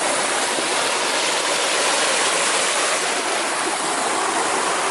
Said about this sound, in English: just try and have a glimpse of this waterfall that we wanted to try and see